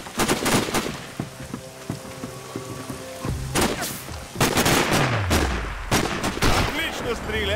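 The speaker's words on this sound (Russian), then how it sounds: "Быстро вперед! Стреляй сейчас!" Gunfire in Sniper Ghost Warrior, a string of sharp, loud shots in irregular bursts, some rapid and some spaced, with echoing tails and a low rumbling sweep near the end, voices speaking in between.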